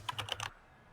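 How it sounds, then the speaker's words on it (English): A quick run of four or five close, crisp computer keyboard keystrokes during an online game session, lasting half a second before falling silent. "Sirs, I hear you typing away."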